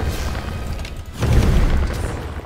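A deep booming bomb blast goes off in the video game Magicka, with a sudden low rumble midway that then lingers over quieter game noise.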